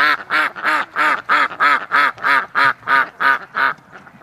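About a dozen loud, evenly spaced quacks from ducks on a lakeside dock, each a harmonic nasal call, close and alone with no talk.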